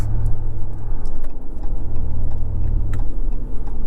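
Steady low rumble of a RAM 1500 TRX Havoc Edition pickup's engine from inside the cab, a continuous deep drone with little variation and no talk over it.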